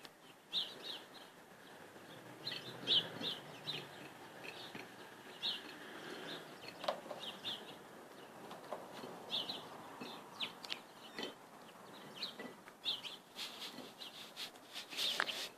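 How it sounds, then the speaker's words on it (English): A chicken pecking at her food nearby, a series of faint, irregular tapping and scratching sounds with occasional soft chirps over quiet background. "That noise in the background is my chicken eating her lunch."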